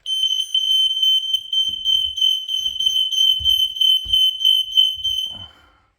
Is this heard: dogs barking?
no